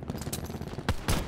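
Rapid automatic gunfire from several teammates in the multiplayer shooter Black Ops 4, a dense, continuous rattle of shots with louder, sharper bursts near the end.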